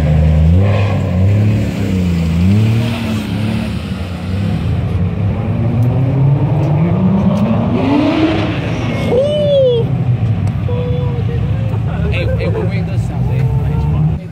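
A Toyota Cressida fitted with a 2JZ engine revs at a car meet, its engine note rising and falling loudly, with a sweeping climb around the middle, over crowd chatter and people talking nearby.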